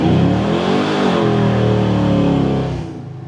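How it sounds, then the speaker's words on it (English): LS3-swapped square body truck on 26-inch wheels accelerating hard with a loud, close engine rev that holds steady, then drops off as it shifts into second gear. "This thing slides right into second gear with ease"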